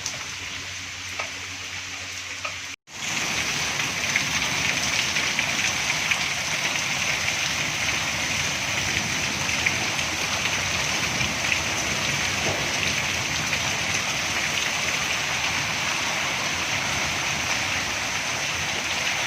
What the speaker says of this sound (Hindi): बारिश तेज़ होती जा रही है जी